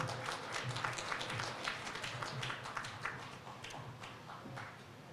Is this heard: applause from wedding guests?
yes